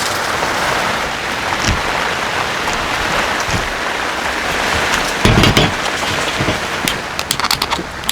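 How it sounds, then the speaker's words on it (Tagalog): Heavy rain drums on a tarp at a camping spot in Maragusan, a steady, dense hiss of close drops that continues throughout, with a few louder bursts and splatters near the end. "Grabe ulan."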